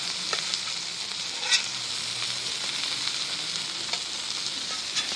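Steaks sizzle steadily on a flat top griddle, a continuous hiss of frying fat with a few sharper pops and crackles, close and moderately loud with no talking.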